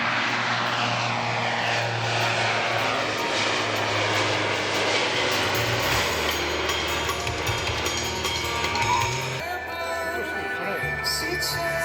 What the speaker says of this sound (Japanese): スカイダイビングチームファストラックスのメンバーを乗せた KC130 が離陸し